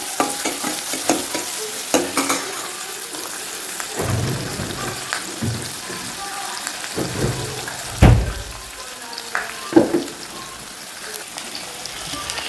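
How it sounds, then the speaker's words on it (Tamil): Onions sautéing in a pan for chicken curry, a continuous sizzle broken by repeated scraping and clattering stir strokes of a spatula, fairly close, with no clear speech. "ஆனியன் நல்லா வதங்கட்டும்."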